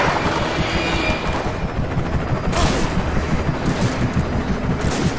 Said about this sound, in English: They're just shooting shotgun shells at me.